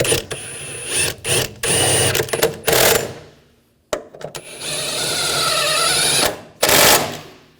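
A ratchet tightens bolts on the high pressure fuel pump of a 2007-2013 BMW X5 3.0L inline six, rapid close clicking bursts in several short runs separated by pauses, loud and near.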